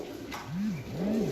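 Pigeons coo nearby, giving two soft, rising-and-falling low calls in quick succession over faint background noise.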